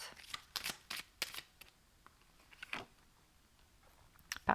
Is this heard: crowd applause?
no